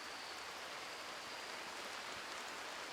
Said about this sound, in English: look, it's raining, so our fires are going to go out